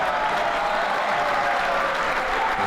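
A wrestling crowd at a live pro wrestling show applauds steadily, a dense, continuous clapping that fills the room at even loudness throughout.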